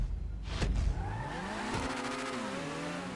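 An Entity XXR Le Mans race car in GTA V roars close and loud, its engine rising through revs with a brief tire squeal early on, then settling into a climbing, whining drone.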